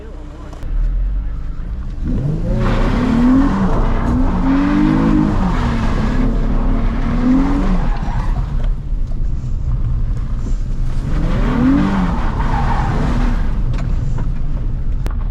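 Drift cars sliding through a deserted ghost town, with strong engine roar and revving in long bursts and tire noise across most of the span, loud and close, fading between passes.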